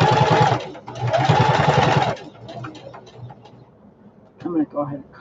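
Sewing machine stitching up a diaper bag pocket, running in two loud bursts of rapid mechanical whirring with a brief pause between, then stopping as quieter handling noises and faint speech follow.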